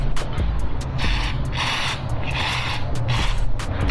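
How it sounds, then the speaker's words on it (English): Close, hissing sprays from an aerosol can of sensor cleaner come in several short bursts over a steady mechanical hum, during a K&N air filter recharge on a supercharged BMW E36 M3. "I'm just going to spray a little bit on the inside."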